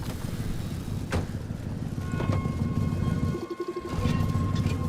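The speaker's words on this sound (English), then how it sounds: "You hear my engine? It's doing weird things." A damaged car engine in the driving game Pacific Drive, shocked and running rough, gives a continuous low mechanical rumble with a few sharp knocks and a brief dip before it swells again.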